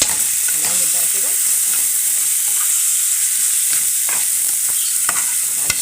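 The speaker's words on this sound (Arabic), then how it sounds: "الشعريه اتحمرت، حطيت الرز. هنقلب بقى كده." Rice and toasted vermicelli sizzle as they fry in a pot. A spoon scrapes and stirs them in close, loud, continuous bursts, with no talking.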